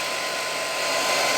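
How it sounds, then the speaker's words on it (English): Hair dryer blowing steadily at close range while drying glue on an O gauge model railway coal yard, a loud continuous broadband whoosh that swells slightly toward the end with no talk. "I think I'll just hit that with a hairdryer."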